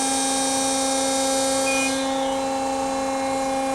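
An Extrude Hone Vector 200 abrasive flow machine running a cycle, a loud, steady mechanical hum with a constant droning tone throughout and no speech.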